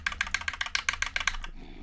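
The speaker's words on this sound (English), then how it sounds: "my keyboard's way louder than my voice is." Rapid, close clicking of computer keys in a quick steady rhythm, about a dozen strokes, then a brief pause.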